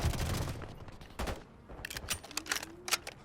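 Rapid video-game gunfire hammering at a turret, opening with dense bursts, then sparse sharp shots and clicks over a quieter background with a faint tonal whine.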